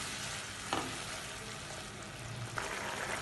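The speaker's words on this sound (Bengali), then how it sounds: "এবার আমি এই গ্রেভিটাকে হালকা ফুটতে দেবো।" Egg curry gravy with added water bubbles and sizzles steadily in a pan, a continuous hissing simmer with a couple of faint stirring clinks; no talk.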